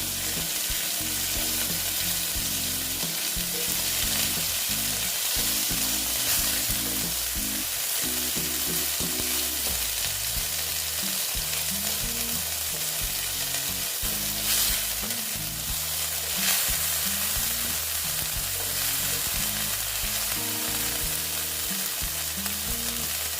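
Ground fennel, ginger and green chilli fry in a pan for a pointed gourd dish, with a loud, continuous sizzle and crackle and occasional stirring scrapes, alongside a steady low background tone.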